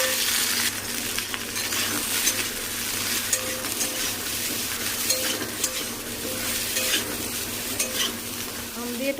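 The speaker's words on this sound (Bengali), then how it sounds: "তার আগে পটলটা ভাজে দিই পটলটা ভাজতে দিই" Pointed gourd (potol) slices frying in oil in a pan, a steady loud sizzle throughout with occasional light clinks and stirring scrapes, no voices.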